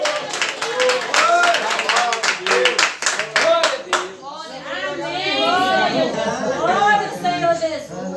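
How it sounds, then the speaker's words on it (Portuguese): A church congregation claps for several seconds in quick, rhythmic bursts of applause. Then voices talk and a speaker addresses the crowd over the last claps. "Vamos receber o irmão Manuel com as palmas para Jesus."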